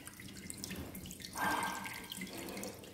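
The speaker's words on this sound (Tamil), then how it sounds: "இதோடைய சவுண்டை வந்து நான் கவர் பண்ணியிருக்கேன் பாருங்கள், ரொம்ப ஒரு மாதிரி நேச்சுரலாக ஃபாரஸ்ட்லேருந்து தண்ணி விழுகிற மாதிரி ஒரு சத்தம்" A small indoor decorative water fountain in a living room trickles and splashes steadily, a close, gentle running-water sound with a brief louder gush midway and no talk.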